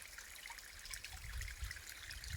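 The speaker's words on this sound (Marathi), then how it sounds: "हे पहा मित्रांनो पाणी कसं पडतं इथं" Steady trickling water with a soft, continuous splash from a forest stream falling over rocks, moderately distant, plus a low rumble underneath; no voices.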